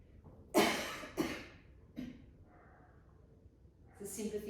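A few short, sharp coughs in a quick burst, followed by a single lighter one and some breathy throat noise, close to the mic during a Pilates workout.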